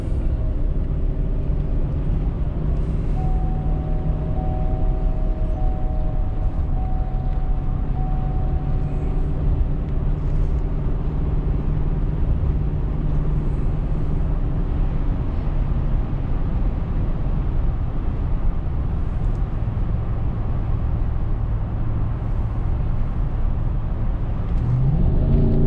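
A stock Chevrolet Suburban on a test drive, its engine droning steadily with a continuous low rumble and faint whine as it pulls through gear shifts, heard from inside the cabin with no talking.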